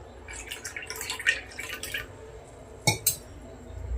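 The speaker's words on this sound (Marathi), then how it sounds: "आणि यामध्ये पाणी ॲड करायचं आहे." Water poured into a glass of mint syrup, a cluster of light trickling splashes and drips up close followed after a short pause by two sharp splashy pours, no talk.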